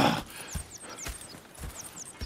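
Horses in Red Dead Redemption 2 clip-clopping at an easy walk, a steady rhythm of close hoof thuds with soft tack jingles and faint ambient chirps, no talk.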